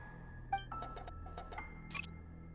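A game alarm in Genshin Impact sounds in a guarded facility: a few bright metallic rings and chimes spaced over a couple of seconds, moderately clear above a low ambient drone and faint musical tones.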